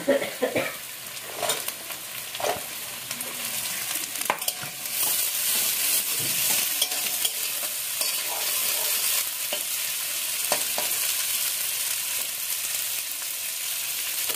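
Carrots and beans fry in a pan with a steady, close sizzle and occasional scrapes of stirring throughout, no voices.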